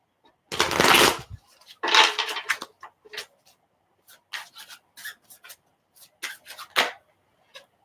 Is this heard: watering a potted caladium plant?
no